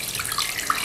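Tap water runs steadily over beef being washed in a kitchen sink, an even close rush with no voices.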